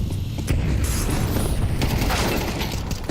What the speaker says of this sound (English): and the flashbang, brilliant